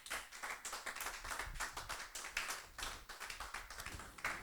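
A church congregation claps together in praise during a sermon, producing a dense, steady wash of rhythmic clapping that carries on for the whole stretch, with no talking over it.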